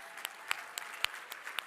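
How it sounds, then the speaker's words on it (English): Scattered, fairly faint handclaps from an audience at a closing conference session, a few separate sharp claps spaced out rather than a full ovation. "Give them another round of applause"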